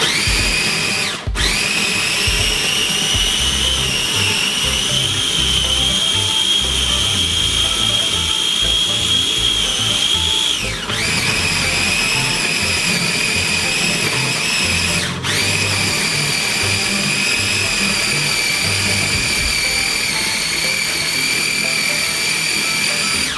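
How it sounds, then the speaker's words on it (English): Ingredients for Haitian food grinding in a high-pitched electric blender or grinder, running loud and steady for the whole stretch, with a couple of brief dips in motor pitch. "Okay, and we're just gonna grind everything."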